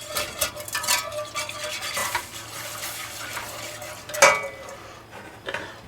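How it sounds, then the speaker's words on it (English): Flour being whisked into a mac and cheese mixture in a pan, a steady scraping and stirring rhythm with light metallic clinks, close and moderately loud with no talking. "And 5 teaspoons of flour. Whisk that together."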